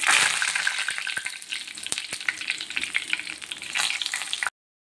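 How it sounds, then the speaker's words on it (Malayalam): Curry leaves frying in hot oil for a home-style chicken fry, with a steady bright sizzle and crackle throughout, a few louder pops, close and alone with no talk. "നേരത്തെ എടുത്തു വെച്ചിരിക്കുന്ന കറിവേപ്പില ഇതിലിട്ട് മൂപ്പിച്ച് കോരിയെടുക്കുക."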